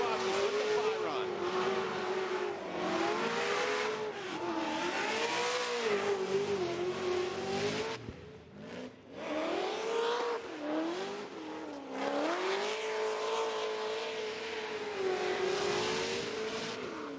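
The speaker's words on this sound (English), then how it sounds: "lay back and listen. Odi Bakchis with the bye run" A drift car roars through a competition bye run, its engine revving hard and wavering with shifts in throttle while the tires squeal. The sound is loud and continuous, with a brief dip midway, under a commentator's voice.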